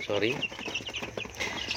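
Chickens clucking and chirping continuously nearby, a busy flock sound with a person's voice faintly underneath.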